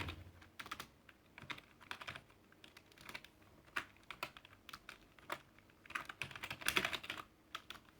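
Steady typing on a computer keyboard while writing Node.js code, irregular clusters of soft key clicks and taps, close and fairly quiet, with no talking.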